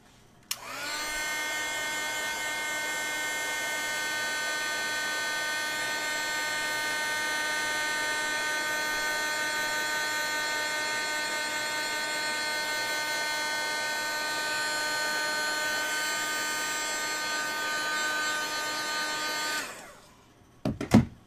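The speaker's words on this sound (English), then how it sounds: "I'm going to heat set this to let it dry." A heat tool blows steadily over a craft project to dry crushed curry, a loud continuous whirring whine with a strong tonal hum that runs unbroken for about twenty seconds before switching off, with no talking.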